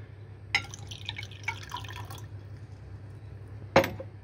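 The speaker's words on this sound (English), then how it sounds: "rinsing it with boiling water" Boiling water rinsing refined gold in a container, heard as a few sharp splashes and drips against a low steady hum, with a louder pour-like splash near the end.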